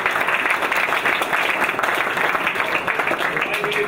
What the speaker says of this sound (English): So if we can get another round of applause for Brian.